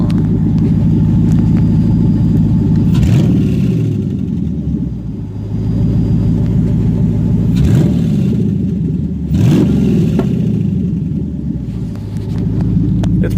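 A 2009 Dodge Challenger SRT8 idles with a loud, deep rumbling exhaust up close, broken by three sharp throttle revs that swell and fall back to a steady burble.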